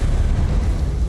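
A Confringo explosion spell cast in Hogwarts Legacy: a loud, low, rumbling burst that fills the moment and holds steady, with no pause, beneath dense game noise.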